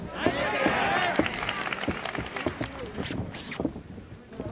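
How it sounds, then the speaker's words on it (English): A Japanese boxing crowd at a Naoya Inoue fight roars and swells in a dense, continuous wash of cheering, with commentators talking over it. "The Japanese crowd getting into it here"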